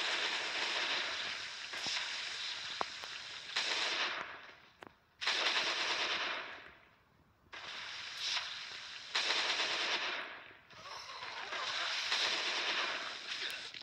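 A SCAR rifle in a zombie survival game fires long bursts of rapid automatic gunfire, loud and close, broken by short pauses between bursts.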